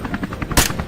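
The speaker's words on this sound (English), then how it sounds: "Gunfire rang out in rapid bursts, sweeping from the outer edge deep into the center of" Rapid gunfire from a helicopter hunting boars, a loud sharp burst over the steady rhythmic thump of rotor blades, close and dense.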